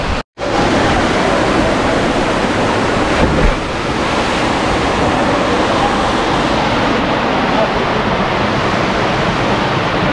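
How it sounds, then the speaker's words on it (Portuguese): Cachoeira da Capivara waterfall in Capitólio roars as a dense, steady wash of falling water. A brief drop-out opens the stretch, then the loud rush continues unbroken with no voices. "estamos na Cachoeira da Capivara"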